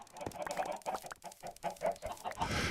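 Chickens in Minecraft cluck in a quick run of short, clipped calls, one after another in an uneven rhythm, close and moderately loud, ending in a burst of scratchy noise.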